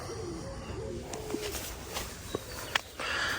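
Birds call and coo outside a tent in the morning during bikepacking, with several soft repeated calls at middling distance over quiet ambient background and a few light knocks.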